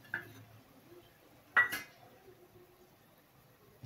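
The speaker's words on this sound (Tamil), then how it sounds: "இப்போ இதை நம்ம மிக்ஸ் பண்ணிக்கலாம்" Ingredients mixed in a bowl with chili powder, turmeric and coconut in a kitchen, with a few sparse clinks and scrapes of a utensil against the bowl separated by quiet gaps.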